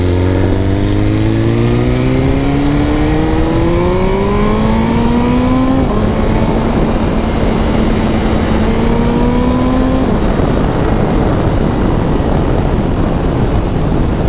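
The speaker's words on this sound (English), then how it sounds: "Just a great sounding exhaust, man." BMW S1000RR sport motorcycle with a new aftermarket exhaust, loud and close, engine note climbing through gears with sharp upshifts, then a roaring wind-blown ride at speed with no talk.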